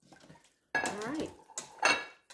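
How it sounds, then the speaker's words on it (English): Beef, carrots, potatoes and pan juices are mixed in an Instant Pot for stew, with a few close, quick bursts of metal utensil clanking and scraping against the pot. "We'll just give it a good mix."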